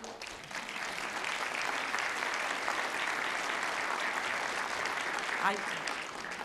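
Faculty and audience applaud during a university presidential investiture, a broad, steady wash of clapping across a large hall, with a voice briefly heard near the end.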